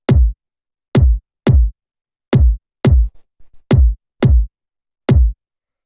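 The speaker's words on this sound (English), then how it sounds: "this is just like a very fat, punchy drum and bass kick" A fat, punchy drum and bass kick drum hits eight times alone, each thump short and heavy with a sharp click, spaced unevenly with silence between and a few faint ticks in one gap.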